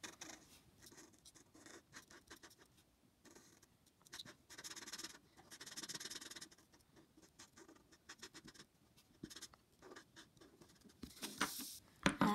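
An orange Posca paint pen scratches and scrubs across paper in quick, irregular strokes, a soft close-up rasp with brief pauses between bursts.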